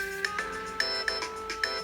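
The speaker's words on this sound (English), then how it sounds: "And that is someone's phone." A mobile phone rings in a kitchen during bagel baking, with a repeating electronic ringtone of short, regular pulses, close and clear, with no talking.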